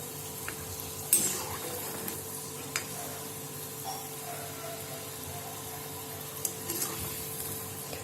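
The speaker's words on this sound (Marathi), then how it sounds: "मी मध्यम आचेवर तळते, मंद आचेवर तळते मी." Modaks deep-frying in oil over low to medium heat in an iron kadai make a soft, steady bubbling sizzle, with occasional light clinks of a utensil against the pan.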